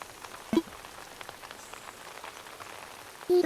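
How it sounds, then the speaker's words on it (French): Steady rain falls on an island in the Animal Crossing video game, a soft continuous patter of drops. A couple of faint brief blips sit on top of it. "Oh, une île en pluie."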